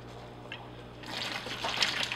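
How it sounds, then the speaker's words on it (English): Water drains from a small Fluval Spec aquarium through a hose, a quiet trickle and gurgle that starts after a brief lull and grows into soft sloshing over a low steady hum. "I'm just going to drop the water line a bit."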